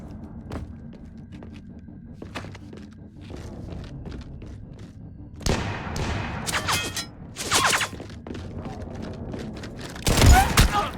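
Gunfire in the video game Mass Effect 3, scattered shots and bursts over low ambient rumble, with a few louder volleys and a sharp blast near the end; voices speak in between.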